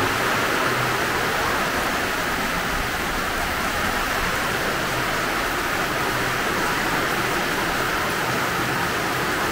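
A brief rain shower passes over bushland in Litchfield National Park, Northern Territory, as a dense, even hiss of falling rain that holds steady and close throughout.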